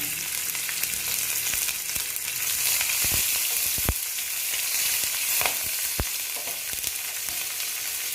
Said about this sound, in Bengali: আমি পেঁয়াজ কুচিয়ে রেখেছিলাম এটা দিয়ে দিলাম